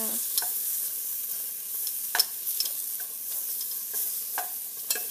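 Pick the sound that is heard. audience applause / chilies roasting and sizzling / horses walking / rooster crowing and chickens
chilies roasting and sizzling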